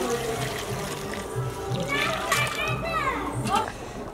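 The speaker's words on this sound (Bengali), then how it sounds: "এবার দিয়ে দিচ্ছি গরম জল।" Hot water is poured into a simmering Bengali mutton curry with potatoes and papaya, giving a steady splashing, sloshing sound under continuous talk and children's voices.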